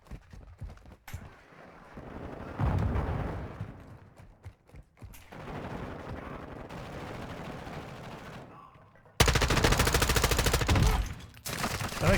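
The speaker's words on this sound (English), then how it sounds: "I shot him through the thing" Gunfire in Call of Duty Modern Warfare 2 on PC, with loud dense bursts of automatic fire cutting in near the end after a stretch of quieter in-game noise and scattered shots.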